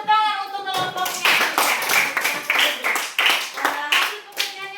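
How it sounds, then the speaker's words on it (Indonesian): A classroom of students clapping for a student group, a burst of close, quick, uneven hand claps that swells and fades in waves, with voices cheering alongside. "mari kita tepuk tangan untuk kelompoknya"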